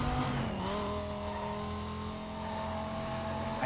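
A Dodge Viper engine in Need for Speed: Most Wanted hums steadily and loudly throughout, its pitch shifting slightly as it drives, with a brief tire squeal near the start.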